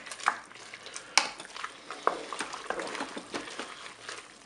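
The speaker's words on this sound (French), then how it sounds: "Et puis, je vais mélanger. Je mélange." A spoon stirs spaghetti, chicken and carrots in a Cookeo multicooker, giving irregular scraping and clacking strokes against the pot over soft wet squelching, close and moderately loud.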